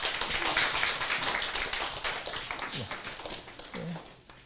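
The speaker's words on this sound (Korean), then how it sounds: "자, 박수 주세요" A church congregation claps in a fairly faint, scattered round of applause that tapers off toward the end, with a voice speaking over it.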